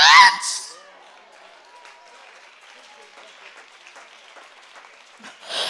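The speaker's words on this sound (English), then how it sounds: "see, you see all you people are clapping?" Applause from a church congregation at a prophetess's sermon, a loud burst at the start that fades into scattered claps and crowd murmur, then rises again briefly at the end, with a voice speaking over the opening.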